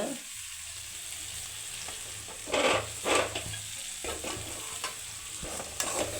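Tomato masala frying in a pan for cauliflower curry, a soft continuous sizzle with a few louder bursts as a spoon stirs and scrapes through it.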